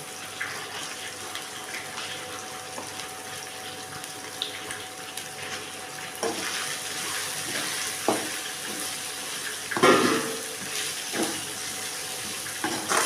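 Water cooking off in a pan while chicken fried rice fries, a steady broadband sizzle with occasional louder spatters and stirring clatters, close and alone.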